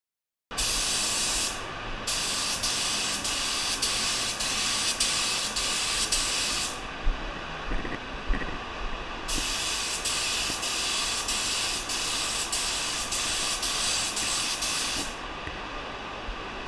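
A clear coat is sprayed onto a car headlight during restoration in two long, close, loud hissing bursts separated by a few seconds of quiet with light handling clicks.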